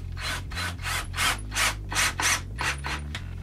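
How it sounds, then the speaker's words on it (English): An adjustable camera slider rail is worked onto a sled with about ten rhythmic rasping strokes, each a short scraping rub. Close and fairly loud over a low steady hum. "Now I'm attaching the adjustable rail to the sled."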